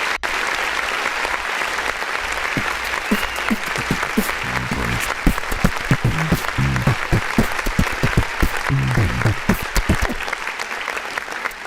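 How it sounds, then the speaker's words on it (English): Applause from a clap-button sound effect on an independent artist music review show, a steady crowd clapping that fills the whole stretch at constant loudness, with a few low tonal blips and faint talk mixed underneath. "every time I'm hitting this clap button"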